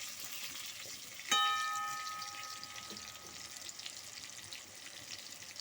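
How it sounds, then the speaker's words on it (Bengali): Pointed gourd pieces fry steadily in hot oil with a low, continuous sizzle and a brief sharp clink partway through, with no voices over the cooking. "আমি আরো কিছুক্ষণ ভেজে লাল লাল করে নেব"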